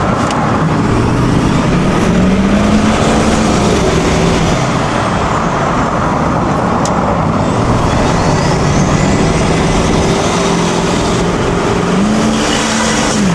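A turbocharged truck engine pulls hard under continuous acceleration while driving, a loud, steady roar with rising and falling engine tones and boost whine, close up inside the cab with no talking.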